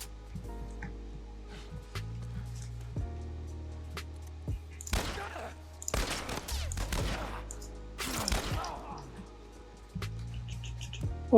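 Gunfire in The Last of Us Part 1 comes as several loud, sharp bursts of shots mid-clip, separated by quieter game ambience and low rumbling tones.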